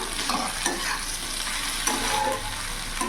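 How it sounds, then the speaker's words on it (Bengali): Okra with salt, turmeric and Kashmiri chilli is stirred in a sizzling pan, a close, continuous fry with a few spoon scrapes and no voices. "ভালো করে নাড়াচাড়া করে নেবো একসাথে মিশিয়ে নেবো"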